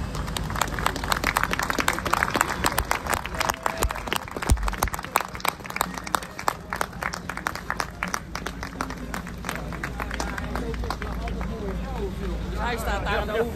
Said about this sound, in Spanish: También pudimos ver la llegada del camión del equipo, que fue recibido entre aplausos muy bajitos y respetuosos al más puro estilo holandés.